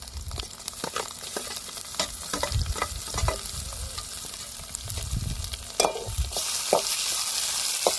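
Slit green chillies and tomatoes sizzle in a hot pan on a wood-fired stove, with a continuous crackling fry. Repeated spoon strokes scrape and knock against the pan at close range.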